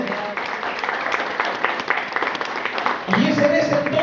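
A church congregation applauds during a sermon, steady clapping from many hands filling the room, with a preacher's voice continuing over it.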